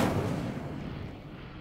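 A loud, booming fire blast from the Incendio spell in Hogwarts Legacy bursts at once and then rolls off in a fading rumble over under two seconds, with no one talking over it.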